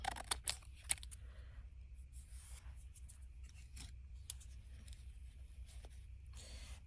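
Sharp scissors snip paper scraps for journal belly bands, a few crisp close cuts near the start followed by quieter rubbing and handling of paper, no talking.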